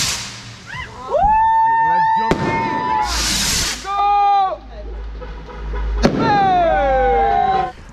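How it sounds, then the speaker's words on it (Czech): Fireworks whistle upward and burst with sharp cracks and booms, several in sequence, loud and nearby against open-air noise. "A začíná ohňostroj"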